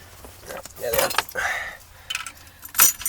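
A set of car keys for a 1974 Corvette Stingray jangles and clinks in short bursts while being hunted for and picked up nearby, with a voice talking over parts of it.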